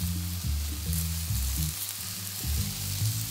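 Oil sizzling in a pan while cooking onion for a steakhouse-style risotto, a steady close frying hiss with low bubbling and stirring thumps, no talking.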